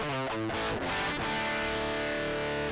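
A distorted electric guitar is played through a Fractal Axe-Fx modeler with power amp and cabinet modeling switched off, giving a harsh, buzzy direct tone; a few quick strummed chords, then one ringing chord sustained loud to the end.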